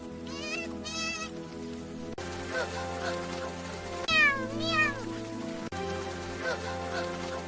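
A small kitten stuck near a drain meows repeatedly in high, thin cries, several pairs spaced apart, over a steady patter of rain.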